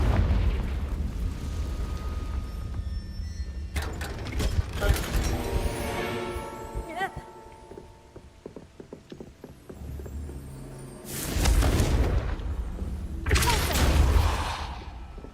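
A Confringo blast in Hogwarts Legacy bursts out in booming explosions with crackling debris, then a quieter stretch, followed by two more loud blasts near the end.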